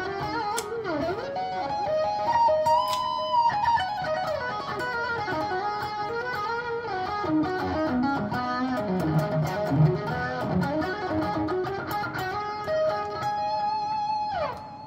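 Electric guitar played through a Boss ME-80 multi-effects unit at a fairly loud setting, with a continuous run of shifting notes and chords carrying a processed, effected tone, with no talking.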